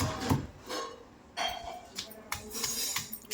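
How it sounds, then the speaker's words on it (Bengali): Tomato, ginger, whole cumin and chilli being crushed on a grinding stone give uneven, repeated knocks and grinding scrapes, fairly close and moderately loud, with no talking. "পিসি এখানে সব থেতো করে নিচ্ছে এর মধ্যে আছে টমেটো আদা জিরে গোটা জিরে আর আমাদের গাছের লঙ্কা"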